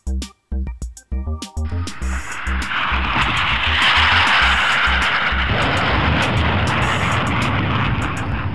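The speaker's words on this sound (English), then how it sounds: "Forward swept wing aircraft." A forward swept wing aircraft roars past, starting with a few brief bursts and then swelling into a loud, steady jet rush that fills the rest of the clip, with no voices.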